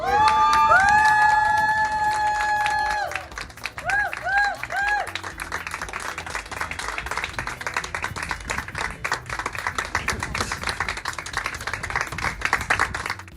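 A crowd applauds and claps as a newlywed couple walks out of city hall after their civil wedding, steady dense clapping following a few seconds of tonal sound at the start.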